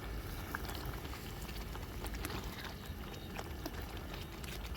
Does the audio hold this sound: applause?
no